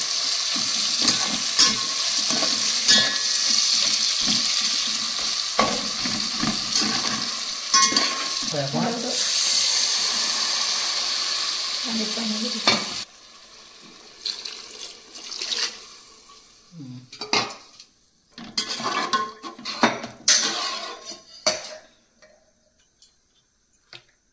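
A spoon scrapes and stirs masala powder, turmeric and yogurt in a pan over a sizzling background, with quick irregular clatters. Partway through the frying hiss drops away, leaving sparse, separate stirring knocks.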